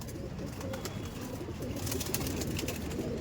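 Soft, low cooing of Giribaz pigeons repeating under a busy rustling background at a pigeon market, with faint higher chirps.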